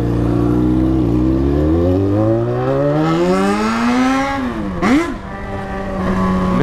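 Yamaha XJ6 motorcycle exhaust revving up and down in a deep, Harley-like tone, loud and close, with rising and falling pitch sweeps and a sharp blip near the end, heard alone without talk.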